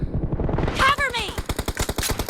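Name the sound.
gunfire from the video game PUBG Mobile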